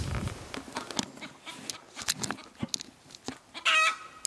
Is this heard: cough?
no